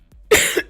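A person sick with a lingering illness coughs out loud and close, a short burst of two or three harsh barks with a brief gap before the last one.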